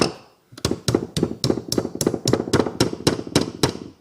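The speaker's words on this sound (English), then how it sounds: "lightly tap them in with the hammer." A rapid, evenly spaced series of about a dozen light metallic hammer taps driving pins into a Ruger 10/22 bolt, sharp and close, with no talking.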